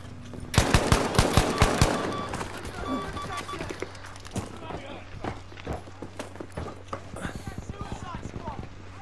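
Bursts of rapid gunfire in the online shooter Battlefield V, loud close volleys of sharp cracks at first and then thinning into scattered shots, with a player talking over them.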